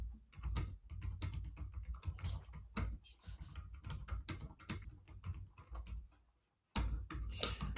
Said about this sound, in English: I'm just typing out your response to Amazon